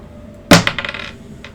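Dice are rolled onto a hard surface during a tabletop game session, with a sharp first impact followed by a quick run of diminishing rattling bounces and one last faint click, close and loud.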